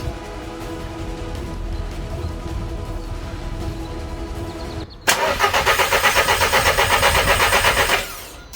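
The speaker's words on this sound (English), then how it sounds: "Like I said, we're only cranking it, we're not trying to start it." VW Polo 1.2 TSI engine cranked after a timing chain replacement: a low steady hum, then a loud rhythmic starter-motor churn with pulsing compression beats for about three seconds, ending abruptly.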